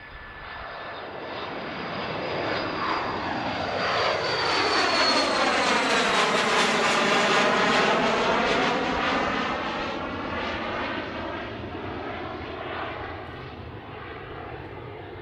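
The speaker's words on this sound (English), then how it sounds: "Finally, a bizjet takeoff." A business jet takes off at Boeing Field, its engine roar swelling to a loud peak and then slowly fading as it passes and climbs away, with a smooth Doppler sweep and no voices.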